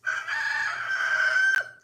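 A rooster crows once, loud and close, a single sustained cock-a-doodle-doo ending with a short click.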